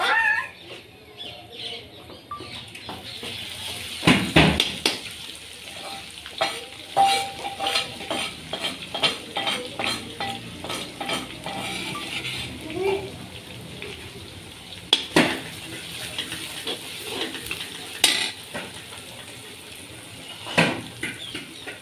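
A pickle mixture of cauliflower and carrot with pounded garlic and asafoetida sizzles steadily in a pan while a spoon stirs and scrapes it in repeated knocks, with occasional talk over the cooking.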